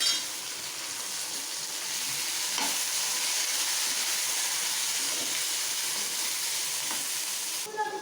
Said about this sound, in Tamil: வதங்கினதும் பச்சை மிளகா எடுத்து போட்டுக்கலாம். ஒரு வதக்கு விடுவோம்.